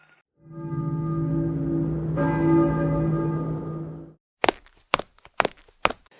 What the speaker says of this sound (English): We heard you ringing the bells.